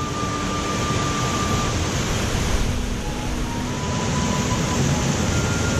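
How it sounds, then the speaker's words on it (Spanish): A large volume of water pours into a pool in a ravine, producing a continuous loud rushing roar that stays steady throughout, with no voices. "Cae un montón de agua."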